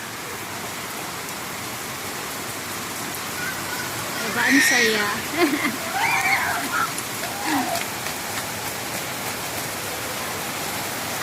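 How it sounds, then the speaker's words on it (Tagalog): Heavy rain pouring down steadily as children bathe in it outdoors, a dense constant hiss of falling water with voices talking and laughing over it midway through. "Ang lakas ng ulan dito sa amin."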